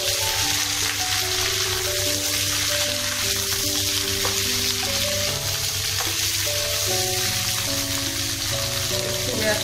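Eggplant and ridge gourd sizzle in hot oil for a fish shukto, a steady close frying hiss with occasional stirring, a soft tonal melody playing faintly underneath.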